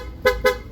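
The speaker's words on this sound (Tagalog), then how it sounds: "sa busina, ang kinabit natin is PIA horn, dual horn setup" Two short honks from a PIA dual horn setup fitted to a Honda Click V3 scooter, each blast brief and bright, spaced close together and heard alone without talk.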